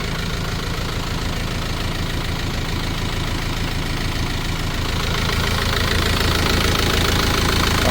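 A Hino WO4D diesel truck engine of 117 horsepower idling with a steady, rough, knocking rumble that stays loud and constant throughout, with no voices.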